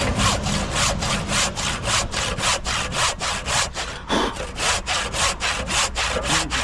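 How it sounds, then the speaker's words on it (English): A handsaw cuts through a timber roof rafter in steady back-and-forth strokes, close and loud, with the rasp of each stroke repeating evenly and no talking. "get the handsaw."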